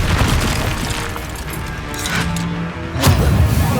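A Confringo fire blast spell explodes in Hogwarts Legacy, with heavy booming bursts and crashing impacts and a strong blast near the end.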